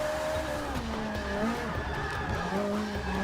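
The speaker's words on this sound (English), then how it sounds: "Yeah, boys, jump drift." Ferrari F430 Scuderia tires squealing through a jump drift in a racing game, wavering screeches rising and falling over a revving engine, loud and close, no talk.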